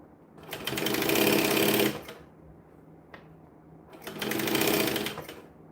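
Sewing machine stitching a bag, running in two sustained bursts of roughly a second and a half each, separated by a quieter pause with a brief click, at moderate distance.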